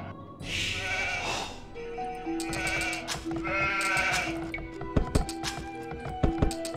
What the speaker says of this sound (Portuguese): Tem mais umas ovelhas lá em cima.